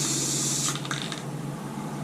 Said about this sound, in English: spray these other pieces with the clear coat